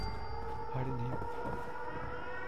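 A steady wailing civil defense siren drones in the Fallout 76 video game, moderately loud and continuous behind faint game sounds.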